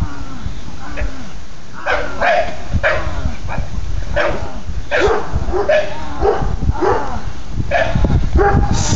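A shy dog barks in repeated sharp bursts during protection work training, loud and close, mixed with yips and whimpers amid general scuffling activity.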